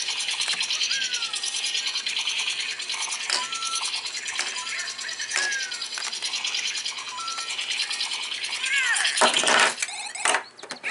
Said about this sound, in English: Get you that cool little sound effect.